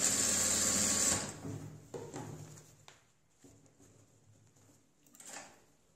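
Sewing machine stitching fabric in a straight line while piping a square neckline: a brief loud burst of rapid mechanical stitching at the start, then quiet handling clicks and rustles.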